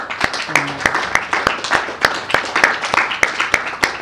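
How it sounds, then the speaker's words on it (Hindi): Congregation at a Hindi-language church sermon clapping in a steady rhythmic beat, sharp regular claps about three per second, close and loud with faint talk underneath. "मेरा तो तालियां बजाने का मन करता है प्रभु के लिए कई बार।"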